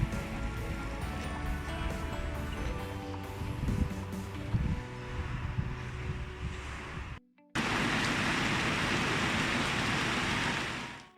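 Steady hiss of heavy rain during a thunderstorm on the coast near Fréjus, a dense wash of noise that cuts briefly and returns louder.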